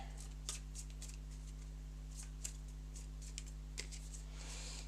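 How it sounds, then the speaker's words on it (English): A deck of game cards is shuffled up close, giving soft continuous riffling and sliding with several sharper card snaps over a steady low electrical hum, with no talking. "We're going to use our 2 daggers, so I'll shuffle these up a little bit."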